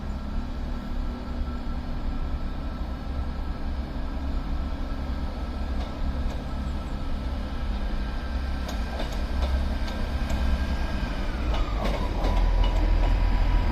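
A two-coach Transport for Wales Class 158 diesel unit pulls away from Crewe station, a steady low rumble and engine drone holding throughout, a sustained tone dropping in pitch near the end, with no talk.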